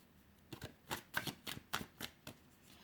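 Tarot cards are shuffled for a five-card draw in a quiet room, a quick run of about eight crisp riffling bursts, close and soft.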